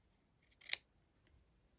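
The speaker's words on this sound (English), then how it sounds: "Let me get me big scissors." A single quick snip of large fabric scissors closing on cloth, crisp and close in an otherwise quiet room, with a faint second click shortly after.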